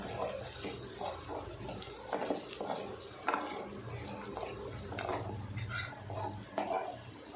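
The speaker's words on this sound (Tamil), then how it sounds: "உருளைக்கிழங்க நல்லா மசாலா மசாலாவோட மிக்ஸ் பண்ணி விட்டுருங்க" Potato pieces tossed with masala in a pan for a potato fry: steady scraping and stirring with a spoon, light clinks and knocks against the pan, and a faint sizzle underneath. No talking.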